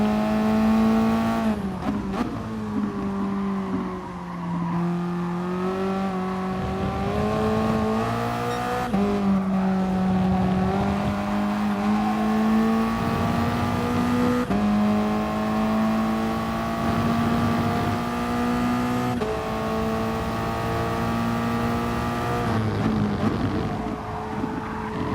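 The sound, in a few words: Toyota race car engine at Red Bull Ring, racing game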